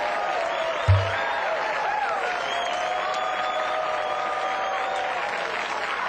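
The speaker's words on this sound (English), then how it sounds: "That's a long clap break." A studio audience applauds at length during a TV knife infomercial, a dense, continuous roar of clapping with crowd noise, steady and fairly loud, with a brief thump near the start and voices talking over it.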